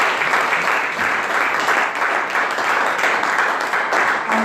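Church congregation applauding, a dense, continuous clapping of many hands at a loud, even level throughout.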